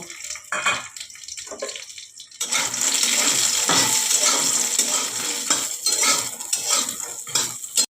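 Dal bori, lentil dumplings, frying in oil in a pan, a loud continuous sizzle that swells after a few quieter utensil knocks and scrapes, with stirring clatter throughout, close up and without talking.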